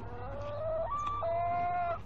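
A chicken makes a drawn-out, warbling cluck over a steady low hum, fairly faint and continuous.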